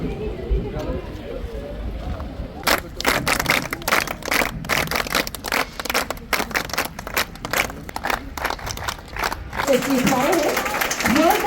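A crowd claps at a Government High School Lakhanpur event for Beti Bachao Beti Padhao, a burst of sharp, rapid claps lasting several seconds between stretches of amplified talk at the start and end.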